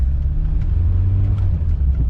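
A VW Golf GTI MK1 is driving, with a loud, steady low engine rumble and road noise inside the small car, with no speech.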